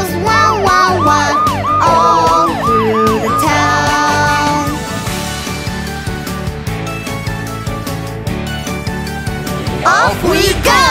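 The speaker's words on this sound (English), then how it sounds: "The ambulance siren goes wow, wow, wow." A children's nursery-rhyme song about brave rescue cars with an ambulance siren wailing in repeated rising-falling sweeps, loud and up front over bouncy music, the siren drifting in and out across the passage.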